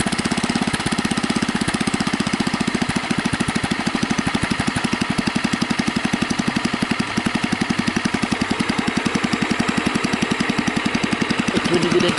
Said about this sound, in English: So it's running good at low RPM.